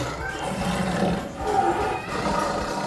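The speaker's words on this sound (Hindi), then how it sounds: "वह शेर जोर जोर से दहाड़ने लगता है" A loud, rough animal roar in a jungle story setting, a sustained growling bellow that swells and fades across a few seconds.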